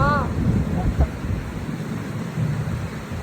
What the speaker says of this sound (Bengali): খুব জোর বৃষ্টি হচ্ছে বাইরে।